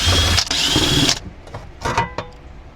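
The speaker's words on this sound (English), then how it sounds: "Phillips head screwdriver and then a couple of Allen head bits to get these bolts out." A power driver with an Allen head bit whirs in short bursts, backing bolts out of an Audi A5 during fuel pump control module work, with brief clicks and pauses between the spins.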